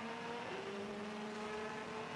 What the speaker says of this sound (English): That's the noise of the Audi.